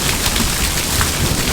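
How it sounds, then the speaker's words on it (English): Heavy rain pours steadily off the roof of a house during a power and water outage, a dense, loud, continuous wash of falling water with no voices. "the rain is still going"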